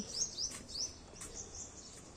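Small birds chirp in a few quick, high-pitched tweets near the start, followed by fainter scattered calls against a quiet background.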